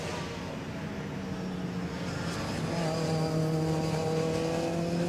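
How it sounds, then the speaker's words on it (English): A Lancia Delta S4 Group B rally car passes on a hillclimb course, its engine a loud, continuous roar with high whining and whistling tones building as it goes by, no voices. "You can hear the turbocharger and the supercharger whistling and whining away as he shuts the throttle as he comes up to the corners"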